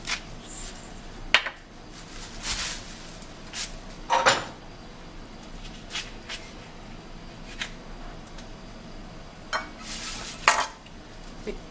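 A walnut salad with black pepper, salt and lemon is stirred in a bowl, with scattered clinks and scrapes of a utensil against the dish at irregular intervals, close and fairly quiet.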